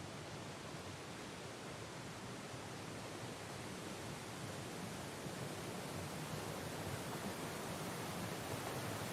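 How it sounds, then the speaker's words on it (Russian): A waterfall in the video game Syberia: The World Before pours as a dense, even rush of broadband noise, steady and fairly faint, with no voices. "Красивый водопадик."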